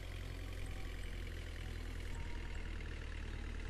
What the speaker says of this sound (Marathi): हे आता JCB निघालेली आहे इथून